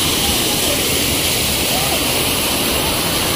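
Fast-flowing water pours down a waterfall stream in a steady, loud, broadband roar that fills the whole stretch without a break.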